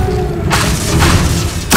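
A fire spell cast in the Hogwarts Legacy video game bursts out as a loud, full whoosh and roar that holds steady for over a second, then a second blast flares up just after it.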